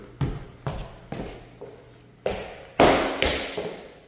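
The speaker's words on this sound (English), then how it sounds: "I will shut up for a second and just walk around so you can hear." Footsteps walking across a wavy-style floor laid over underlay, a series of about eight distinct taps and soft thuds at a steady pace, close and alone, with no creaking.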